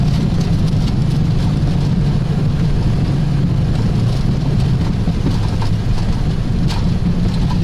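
A Boeing 737 landing on a snowy runway with reverse thrust and auto brakes engaged, heard from the cockpit as a loud, steady roar and rumble that continues without pause.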